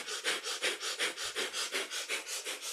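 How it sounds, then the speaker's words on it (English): Kundalini yoga breath of fire: quick, rhythmic panting breaths through the nose, about five per second, close and fairly soft, steady without talk. "We hold this posture with a breath of fire."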